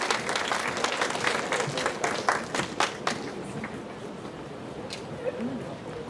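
Audience applause in a school chapel service for a class of third-year students, steady clapping from a crowd throughout, fading slightly toward the end, with a faint voice underneath.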